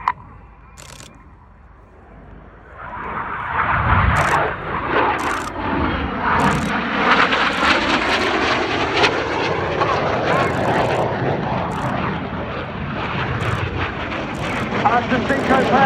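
Red Arrows synchro pair jets flying double rolls at an airshow, a loud sustained jet roar that swells in and holds, with shifting engine tones as the aircraft pass, plus faint camera clicks nearby.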